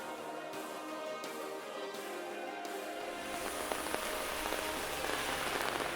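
Steady rain falling on a surface, a dense hiss of drops that grows fuller and louder partway through and continues without pause.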